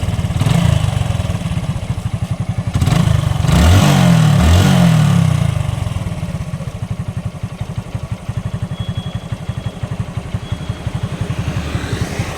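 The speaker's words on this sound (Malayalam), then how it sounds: "വണ്ടി ഒന്ന് ഓണാക്കാം, നിങ്ങൾ തന്നെ സൗണ്ട് ഒന്ന് കേട്ട് നോക്കുക." A motorcycle engine starts and idles with a steady low chugging rumble, revving briefly near the start before settling into a constant putter.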